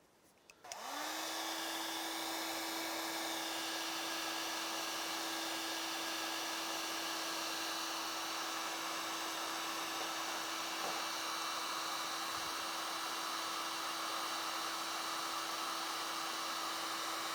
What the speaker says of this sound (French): c'est là qu'intervient le sèche-cheveux ou le décapeur thermique